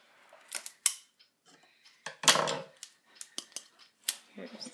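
Sharp scissor snips and clicks, a few quick cuts close up with brief pauses, alongside soft handling noises.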